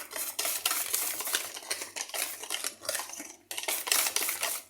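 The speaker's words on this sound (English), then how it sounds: "the last batch of the egg is going in" A utensil mixes eggs into carrot cake batter in a bowl, close, continuous rhythmic scraping and stirring strokes with a brief pause near the end, and no speech.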